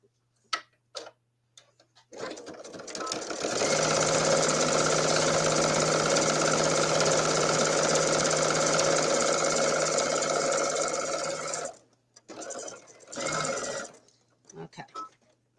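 A sewing machine stitches down part of a quilt in a steady, continuous mechanical run lasting several seconds, followed by a few short bursts and clicks, with talking heard before and after.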